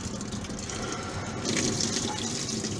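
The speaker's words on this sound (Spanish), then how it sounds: "ahí efectivamente está entrando el agua" Hot water rushes steadily into a washing machine through its inlet, a continuous close gushing hiss that grows slightly louder partway through.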